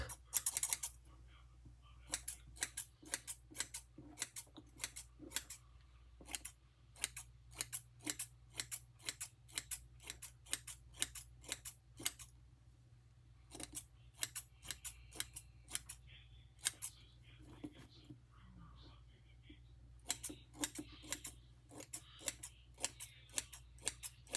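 Thinning scissors snip through the hair of a handmade reborn doll, a long run of crisp, close clicks in an irregular rhythm with brief pauses, heard alone with no talk.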